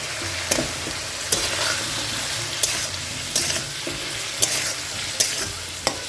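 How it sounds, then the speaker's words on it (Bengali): Prawns frying with potatoes and green chillies in a pan, a steady close sizzle punctuated by regular sharp scrapes of a spoon stirring about once a second. "এই দুটো দিয়ে ভালো করে একটু ভেজে নেব"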